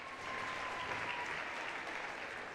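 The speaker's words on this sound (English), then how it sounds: "We're going to turn up our natural sound here and listen to the crowd a little bit." A crowd at a high school volleyball senior night, Williston at Minot North, applauds and cheers in a sustained, even wash of clapping that fills the gym, with no talk over it.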